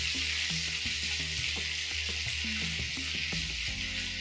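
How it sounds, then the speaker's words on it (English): Butter melting in hot oil in a frying pan, giving a steady, dense sizzle and crackle that runs throughout, heard close with faint background hum and no talking. "The butter has melted and the oil is hot."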